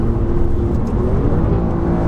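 An Alfa Romeo Quadrifoglio driven in race mode on a wet road, with a loud, steady exhaust and engine drone heard from inside the cabin and a deep, rumbling low end that holds throughout.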